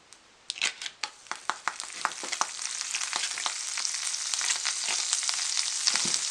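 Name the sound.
bread frying in butter in a pan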